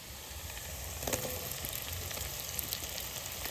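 Onions sizzle and fry steadily in a hot pan for chilli chicken paneer, a continuous close crackle with occasional stirring scrapes and no talking.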